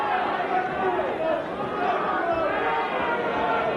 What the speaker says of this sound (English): Certainly the crowd getting more animated.